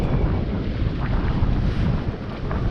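Steady, loud wind buffeting the microphone with a rushing broadband roar and faint water sounds, continuous throughout, aboard a sailboat moving at about 5 to 6 knots.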